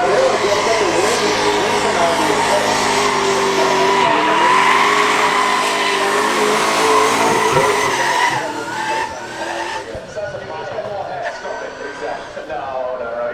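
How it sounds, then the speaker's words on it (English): A Liberty Walk wide body GTR does burnouts at the Goodwood Festival of Speed hill climb, its loud, roaring engine and tyre noise dominating before easing off, with people talking over it. "But Bagsley with that Liberty Walk, D2 wide body GTR, rocking a couple burnouts there."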